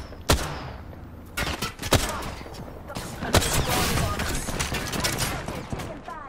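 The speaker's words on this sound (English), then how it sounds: "Opening fire." Gunfire in Apex Legends comes as sharp, loud shots and bursts that build into sustained rapid fire with a few heavy impacts.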